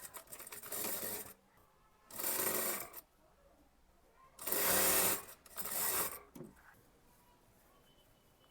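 Short runs of sewing machine stitching close a kurti sleeve side seam: four separate bursts of quick mechanical whirring with quiet gaps between them, nearby and alone.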